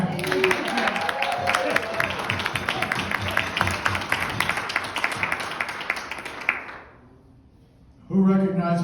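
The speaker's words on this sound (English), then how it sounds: "let's give a loud round of applause to Jack" Audience applause at a Honor Flight presentation, a loud sustained round of clapping from a large crowd lasting about six seconds, then fading to near silence before a voice starts speaking.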